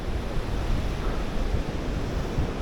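A strong gale roars on a snowy mountain among trees, a loud, continuous, buffeting rush with deep gusts striking the microphone and no voices.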